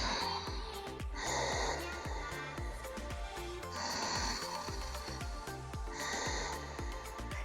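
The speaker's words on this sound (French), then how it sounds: "On va inspirer et expirer en faisant frotter l'air dans la gorge." Ujjayi yoga breathing, air rubbed through a constricted throat: three long hissing, rasping breath cycles, close and steady, alternating a rougher inhale with a breathier exhale.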